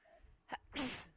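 A single sneeze, close and fairly loud, preceded by a short sharp intake of breath, with quiet background room tone.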